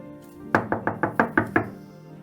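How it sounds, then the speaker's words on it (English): Seven quick, evenly spaced knocks rap on a window, close and sharp, with a brief quiet lead-in before them and no talk. "she will hear a knock on her window"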